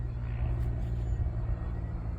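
A truck engine idles close by on a potato farm, a steady low rumble that holds level and fills the whole stretch without any talk over it.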